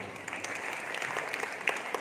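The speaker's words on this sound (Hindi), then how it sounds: "जोरदार तालियां बजाना है आपको" Audience applause for a comic poet at a Hindi humorous poetry gathering in a Jain hall, a steady dense wash of clapping with a few sharper claps standing out near the end.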